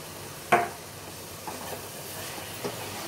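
Carrot halwa being stirred in a pan, a soft steady sizzle with a few light scrapes of the spoon, one clearer knock early on, close and quiet, without speech.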